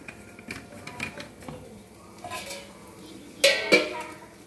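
A metal lid goes onto a cooking pot of thor dal, giving two sharp, close clanks near the end after softer utensil clinks and rustles.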